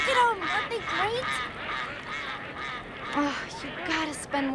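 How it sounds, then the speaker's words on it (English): Plump ducks at an outdoor pond quack and honk in a busy, continuous chorus, close and fairly loud throughout. "These ducks are seriously fatter than I remember."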